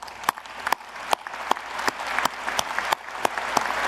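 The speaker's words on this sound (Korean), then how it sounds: "여러분 큰 박수 부탁드립니다." An audience at a formal meeting on a nuclear-powered submarine plan breaks into steady applause, dense clapping with a few sharp individual claps standing out, no talking.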